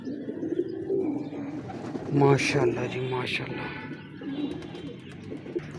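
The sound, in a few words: pigeon cooing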